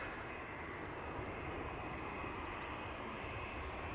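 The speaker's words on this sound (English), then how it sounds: "a 767 from TUI is lining up on center" A TUI Boeing 767 lines up on the runway at Amsterdam Schiphol, its engines giving a faint, steady distant rumble with a constant whine and no break.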